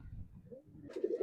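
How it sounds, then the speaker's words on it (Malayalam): Vettu pigeons in a loft in Kozhikode make soft, low cooing, faint and close, a short murmuring burst rising toward the end. "ഇതൊക്കെ വെട്ടുപ്രാവളാണ്"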